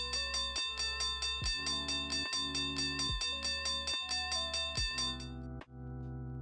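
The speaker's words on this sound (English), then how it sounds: "Did you hear that bell or no?" A bright bell alert chimes repeatedly in a quick regular pattern, ringing clearly with layered metallic tones before cutting off into a low hum.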